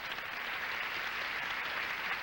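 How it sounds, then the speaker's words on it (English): A brisk round of applause from a television game-show studio audience welcoming a celebrity panelist, steady and even throughout, with no voices over it. "a brisk round of applause for Connie Van Dyke"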